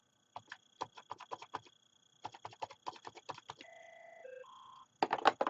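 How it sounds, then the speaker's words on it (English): Office desk phone from a 4412 phone system with its keypad being pressed: a quick run of clicky key presses, then a series of steady dialing tones in shifting pitches, followed by a brief burst of louder clatter at the end. "Just dialing on the keypad from the get-go automatically puts you on speaker."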